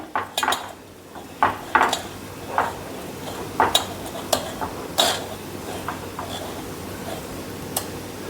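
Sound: cream being strained through a metal sieve

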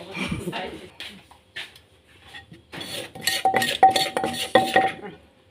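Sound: spooning mushroom dip onto a plate

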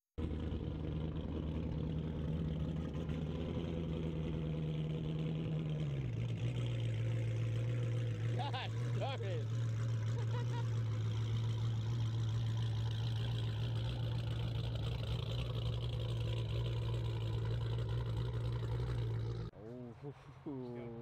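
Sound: 6.4 Hemi engine with aggressive cam idling

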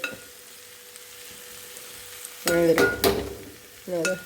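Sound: dried chili, coconut and onion frying while stirred

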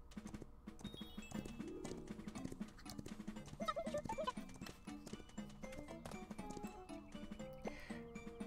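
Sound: horse hooves clip-clop in video game

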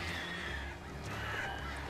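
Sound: birds cawing in video game Alan Wake Remastered

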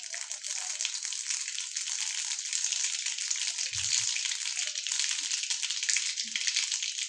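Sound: mustard seeds spluttering in hot oil

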